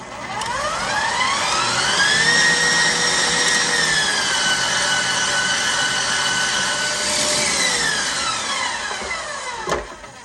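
A whirring electric mixer runs at medium speed as it beats batter for a gluten-free strawberry raspberry whipped cream cake, holding a loud steady whine that tapers off near the end.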